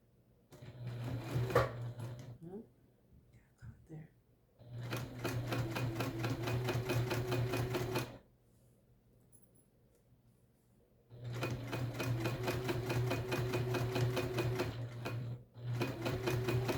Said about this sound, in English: then we're just gonna sew the bottom